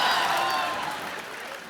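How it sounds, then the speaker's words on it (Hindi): Brief burst of studio audience applause on The Kapil Sharma Show, dense and close, gradually fading over under two seconds. "जोरदार तालियां एक बार काबिल की पूरी टीम के लिए।"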